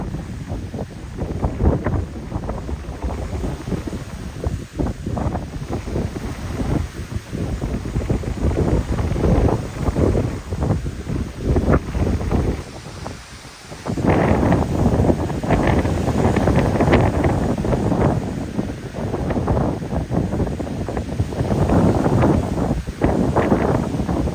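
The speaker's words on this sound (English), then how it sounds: "I know it's windy" Strong mountain trail wind on Priest Mountain buffets the microphone continuously, a loud roaring gusty rush that swells louder in the second half.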